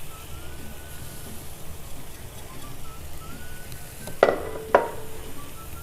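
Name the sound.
spices being stirred into frying fish curry masala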